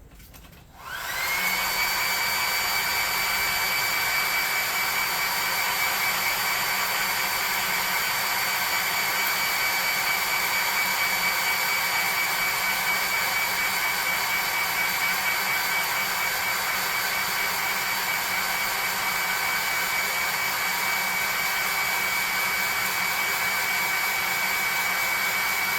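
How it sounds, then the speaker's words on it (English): A hot air gun blasts steadily while drying paint on a Lillend miniature for a tabletop RPG. It starts abruptly and roars loud and continuous with a constant whine, with no talking. "I'm going to hit her with the +2 hot air gun off camera so it doesn't melt or dry any of this up."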